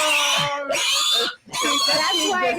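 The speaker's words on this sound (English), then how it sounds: "You want to see a little pig?" A little pig squeals in loud, sustained, high-pitched cries, broken by one short pause, with people's voices mixed in close by.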